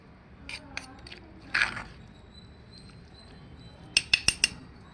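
A metal spoon scooping cucumber roti chutney and tapping onto a plate, a few soft scrapes early, then a quick run of four sharp clinks near the end in a quiet kitchen.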